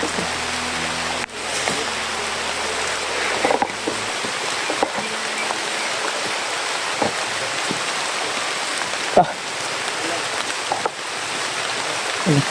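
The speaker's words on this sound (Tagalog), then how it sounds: "Lipas na naman ang ulan dito." Steady rain hisses over a wide outdoor area, continuous and moderately loud, with occasional sharper drops and knocks breaking through.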